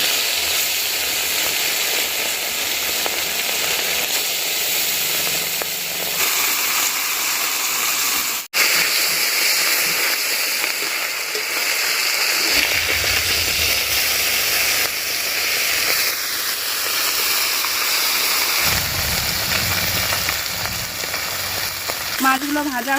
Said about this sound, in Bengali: এবার তেল দিয়ে দিচ্ছি মাছগুলো ভেজে নেওয়ার জন্য।